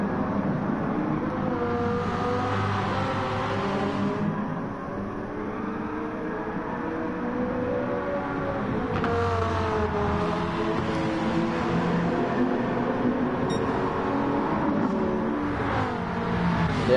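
A Nissan GT-R race car's engine in Gran Turismo 7 during a 90s vintage Le Mans endurance race drones and revs steadily, pitch rising and falling through gear changes, with a brief lift and a hard re-acceleration midway; no voices.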